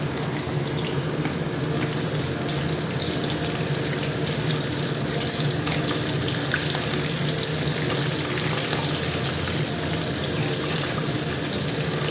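Tap water runs in a steady, unbroken stream while rice is washed under it in a home kitchen, a constant gushing splash lasting the whole stretch with no voices.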